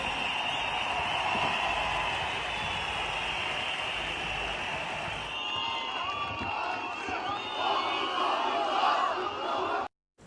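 A huge crowd of protesters gathered outside Istanbul's municipal headquarters, a dense continuous roar of voices with chanting, shouts and whoops rising and falling throughout, loud and close, cutting off abruptly at the end.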